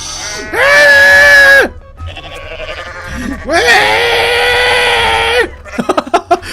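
A goat in the Goat MMO Simulator video game lets out two long, loud screams with a gap between them, followed by short clicking sounds.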